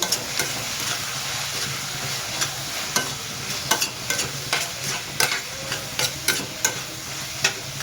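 Fodni rice being stirred and mixed in a sizzling pan, with a steady frying hiss under repeated scraping strokes of a spoon at an uneven rhythm, close and clear, without any talking.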